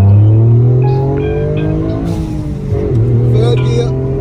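A Toyota Yaris GR engine pulls hard in second gear, its loud droning tone climbing steadily in pitch as the car accelerates, heard from inside the cabin.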